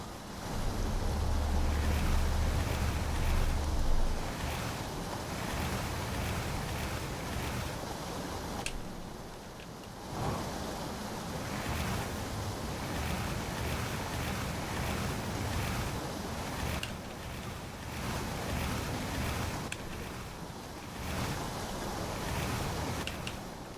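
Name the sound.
ship beached in white water, video game Outer Wilds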